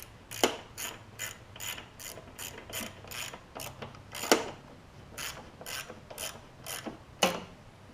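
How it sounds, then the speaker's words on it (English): Socket ratchet tightening bolts on the carburetor of a Craftsman lawn mower with a Tecumseh engine, a steady run of close, crisp clicking bursts with brief pauses between strokes, alone and fairly quiet. "I'll grab a socket and a ratchet so that we don't over tighten them with that bigger impact"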